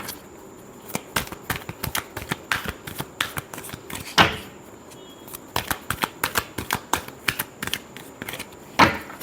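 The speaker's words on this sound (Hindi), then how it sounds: "Last shuffle." A deck of tarot cards shuffled by hand in repeated bursts of crisp riffling and slapping, close and fairly loud, with brief pauses between rounds and no talk.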